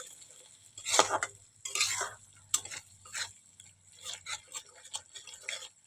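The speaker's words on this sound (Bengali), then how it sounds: "সামান্য একটু জল দিয়ে দেখো অল্প জল দিয়েছি এবারে ভালো করে মিশিয়ে নেব বা কষিয়ে নেব একটু ভালো করে" Pointed gourd and potato curry with spices and a little water stirred in a pan, giving irregular scraping and wet stirring strokes over a faint low hum, fairly close and clear with no talk.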